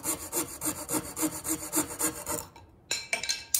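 A fresh blade saws through a wooden board for a 1:12 scale model shed, with steady rapid back-and-forth rasping strokes up close, then a brief pause and a few final scrapes as the cut nears its end.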